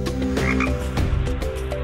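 Frog croaking from an augmented-reality early-learning letters app, heard as a dense run of repeated throaty croaks that fill the whole stretch steadily, close and fairly loud, with nobody speaking.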